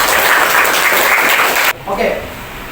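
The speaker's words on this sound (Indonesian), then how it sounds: "beri tepuk tangan untuk temanmu" Classroom audience applauding a classmate at a school counseling session, dense loud clapping that cuts off abruptly partway, followed by quieter room noise.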